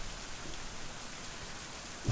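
Steady rain falls in a video game, a dense, even hiss of drops on surfaces with no breaks, heard alone for a couple of seconds.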